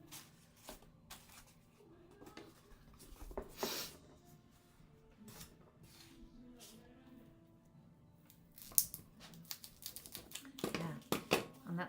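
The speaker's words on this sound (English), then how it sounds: "it's harder to cut with rotary than I thought it would be" A rotary cutter slices through craft material in quiet, uneven scraping and clicking bursts, close and faint, with small handling knocks between strokes.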